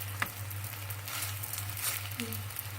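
Stuffed msemmen crêpes filled with vegetables cook in a pan, giving a steady, close sizzle of frying with light crackle, faint hum beneath and no talk.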